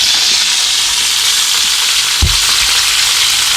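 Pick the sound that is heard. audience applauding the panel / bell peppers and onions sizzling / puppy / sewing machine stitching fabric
bell peppers and onions sizzling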